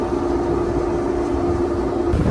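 Riverboat engines cruising on the Mississippi give a steady low drone with a faint tonal hum, continuous and even throughout with no voices.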